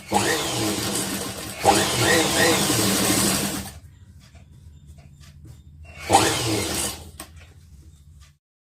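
A sewing machine stitches a V-neck uniform coat in two loud, close bursts of rapid whirring with a quiet pause between them.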